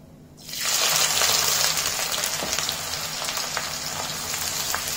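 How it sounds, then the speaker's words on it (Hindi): Onions dropped into hot oil for aloo gobi burst into a loud, close, hissing sizzle that stays strong and steady, easing only slightly toward the end. "प्याज को फ्राई करेंगे।"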